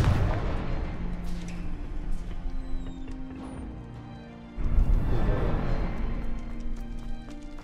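A Confringo fire spell bursts in Hogwarts Legacy, a loud blast landing over a busy game soundtrack, with a second heavy whoosh and crash a few seconds later amid rumbling effects.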